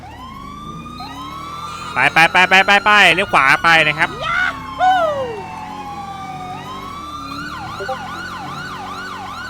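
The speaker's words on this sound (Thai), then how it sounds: "ทำการกดคิวนะครับเพื่อเปิดไซเรนนะฮะ" Police car siren in GTA V, a loud wailing and yelping siren that cycles rapidly at first, then settles into a steady sweeping wail, with someone talking over it throughout.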